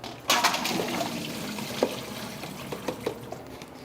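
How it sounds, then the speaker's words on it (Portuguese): Water from cleaned shrimp draining through a pasta colander or sieve, a soft splash at the start followed by quieter trickles and scattered drips, close and fairly faint, with no talking. "vou escorrer essa água aqui no escorredor de massa ou na peneira"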